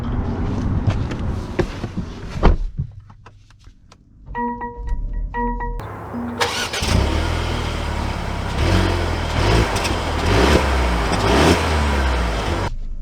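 A 2023 Mercedes GLE 350 chimes and starts up, and its engine settles into a steady, close hum with low rumble as the SUV pulls away, preceded by a few clicks and thumps.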